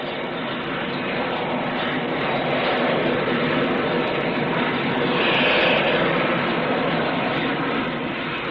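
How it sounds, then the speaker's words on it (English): A VTOL fighter jet roars during a gentle spot landing at the 1962 Farnborough air show, a loud, continuous jet rumble and whine that swells a little midway before settling. "Gentle spot landing makes a fitting climax to this convincing demonstration of the VTOL fighter."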